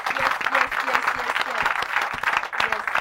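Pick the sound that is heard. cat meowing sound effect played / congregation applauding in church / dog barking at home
congregation applauding in church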